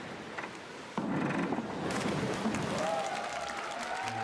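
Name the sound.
crowd whooping and cheering at a diving event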